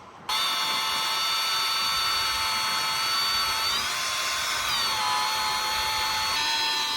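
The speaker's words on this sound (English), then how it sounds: "So let's drill these holes." A power drill whirs steadily at high pitch, starting abruptly and dipping in pitch briefly as it bites, with no voices.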